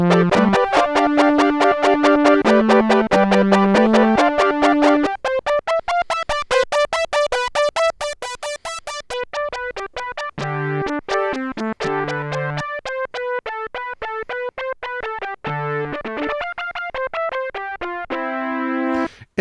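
Korg Minilogue analog synthesizer with its filter tracking pitch, playing a steady run of bright, buzzy notes, first a low repeating figure and then a higher melodic sequence, loud and continuous with no voices.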